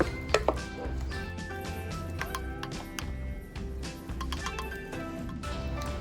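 Coconut milk stirred into cooked sticky rice in a kitchen: a steady scrape and clink of a utensil against a pot, with a few sharper knocks near the start, continuous and close, with no voices.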